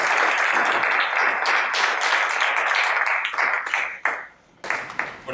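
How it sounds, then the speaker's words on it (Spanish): Audience applause closing a Django programming meetup talk, steady broadband clapping from a small room crowd that thins out, dips briefly toward the end, then picks up again in scattered claps. "Pues nada, un aplauso, muchas gracias."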